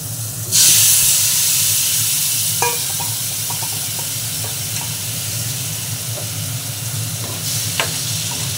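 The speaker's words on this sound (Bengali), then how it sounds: "আর এর সঙ্গে একটু আমি আলু আর গাজর ডালের সঙ্গে ভাজা।" Potatoes and carrots frying in a pan for a Bengali masoor dal dish, a steady loud sizzle that bursts up sharply near the start, with occasional stirring clicks and scrapes throughout.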